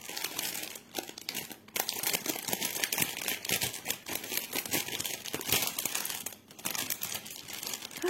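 Thin glossy paper is crinkled and rustled while being unwrapped, with dense, crackling bursts that continue almost without pause and drop out briefly a couple of times, heard close up with no talking.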